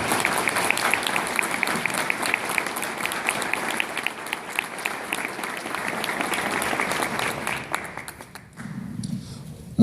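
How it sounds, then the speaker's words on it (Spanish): An audience at an evening talk on football culture applauds to welcome a guest speaker, a steady wash of many hands clapping that fades out near the end. "démosle un cálido aplauso a nuestro invitado esta noche"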